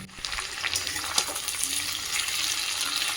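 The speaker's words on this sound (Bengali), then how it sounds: "আমি এই সব সবজির সাথে নুন চিনিটা ভালো করে মিশিয়ে নিলাম" Vegetables for a Bengali shukto are stirred with salt and sugar in a hot pan, producing a continuous soft sizzle with scraping and clinking from the spoon, close and fairly quiet, with no talk.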